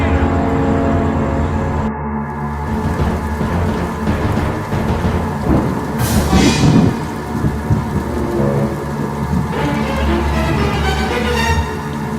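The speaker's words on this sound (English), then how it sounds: "Here we go. Thunder." A thunderstorm sound effect plays heavy, steady rain beneath rolling thunder, with a loud crack and rumble near the middle and more rumbling later. No one speaks over it.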